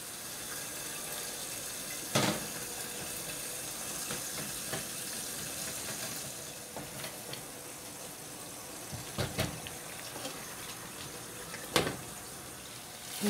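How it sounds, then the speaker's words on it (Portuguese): Tap water runs steadily into a cooking pot on a home stove as a chicken browns nearby, a continuous close splashing stream broken by a few sharper knocks and clinks, with no one speaking. "Vou pôr um tiquinho mais de água."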